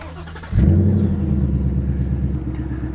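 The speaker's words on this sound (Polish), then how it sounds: "te końcówki wydechu, które zobaczcie, są perforowane tutaj od wewnątrz i to podobno ma jeszcze poprawiać brzmienie" A Ford Mustang Mach 1 with perforated exhaust tips starts up with a sudden loud bark. It settles into a deep, steady, rumbling idle close by.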